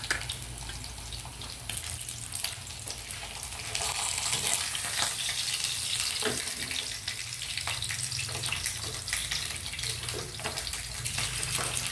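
Pork chops fry in a pan with a steady, dense sizzle and scattered crackling pops that continue throughout at a moderate level.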